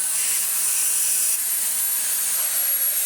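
A Dyson V8 cordless vacuum fitted with a new motor filter runs steadily, producing a loud, even high-pitched whine and airy hiss close to the listener with no change in tone.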